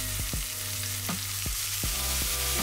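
Onions sizzle on a Le Creuset double burner grill with butter and a touch of balsamic vinegar, a constant close frying hiss broken by several sharp scraping strokes of a utensil.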